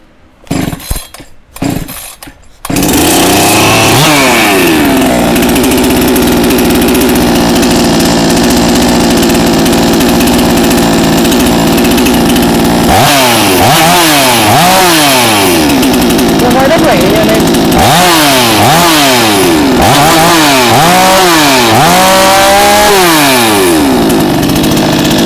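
A NewWest 688 chainsaw engine starts after a few pull-cord tugs, then runs loud and close, idling with repeated throttle revs rising and falling.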